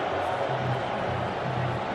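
A large football stadium crowd at an Al Nassr match keeps up a broad, steady roar throughout, a dense wash of voices with a faint low murmur of a commentator underneath.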